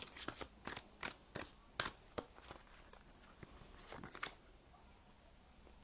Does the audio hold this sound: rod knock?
no